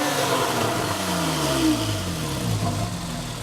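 A 2013 Porsche 911 Carrera 4S with its sport exhaust active revs and settles, a close, throaty engine note sweeping down in pitch through a few gliding tones, with no speech.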